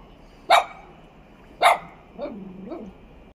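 A stray dog barks two sharp, loud barks about a second apart, then gives two softer, whining yelps, heard from fairly close in a quiet rural setting.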